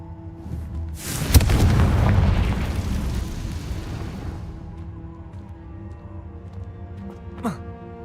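A Confringo blasting spell explodes in the video game Hogwarts Legacy: one loud burst with a sharp crack, followed by a broad rumbling roar that fades over several seconds beneath game music, then a brief whoosh near the end.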